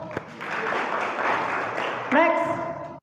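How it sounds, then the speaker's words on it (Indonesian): An audience at a Ramadan pesantren gathering claps in a brief round of moderate applause, ending as a voice starts talking over it. "Tepuk tangan, Pak."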